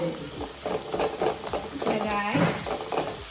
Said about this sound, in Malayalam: അങ്ങനെ വെളിച്ചെണ്ണയിൽ നല്ലോണം ഉള്ളി ബ്രൗൺ കളറാണ്